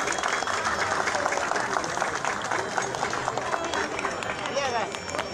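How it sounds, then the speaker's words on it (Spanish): A crowd at a street procession for the Virgen del Carmen in Barrios Altos claps in a dense, continuous patter, with voices and general hubbub mixed in around it. "Aplausos para recibirla, por favor."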